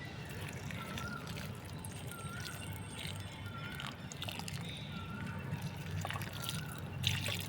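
Water mixed with Epsom salt trickles and splashes steadily into a white hibiscus plant pot, a soft continuous pouring with occasional drips.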